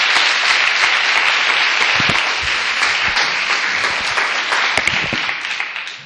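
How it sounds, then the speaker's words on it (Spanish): Sustained applause from an audience at a talk, dense steady clapping filling the whole stretch, loud and close with a few sharper individual claps standing out, fading slightly at the end. "damos un aplauso a Raquel"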